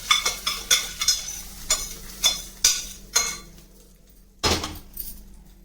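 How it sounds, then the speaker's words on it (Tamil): A spoon stirs tempering into boiled white pumpkin in a pan, making a series of sharp metallic taps and scrapes at an uneven rhythm over a faint hum, close and alone. "இப்போ நம்ம இதை வேக வச்சு வச்சிருக்கிற வெள்ளை பூசணிக்காயில் சேர்த்துடலாம்."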